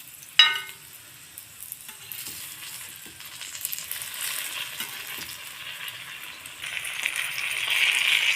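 Rose stuffed puffs fry in hot oil and are turned over in the pan. A sharp clink opens a steady sizzle, which grows louder and fuller toward the end.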